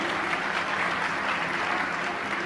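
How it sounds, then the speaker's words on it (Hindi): An audience at a Jain religious discourse claps together in sustained, dense applause, loud and even throughout, with no voices standing out. "ताली बजाइए"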